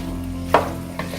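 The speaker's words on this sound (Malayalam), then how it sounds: "ഇതൊരു 10-15 മിനിറ്റ് നേരെ ഇങ്ങനെ ലോ സിമ്മിലിട്ടിട്ട് ഇടയ്ക്കിടയ്ക്ക് ഇളക്കിക്കൊണ്ടിരിക്കുക" Kerala style beef fry is stirred in a pan over low heat, with a steady sizzle under one sharp scrape of the spoon and a softer second scrape moments later.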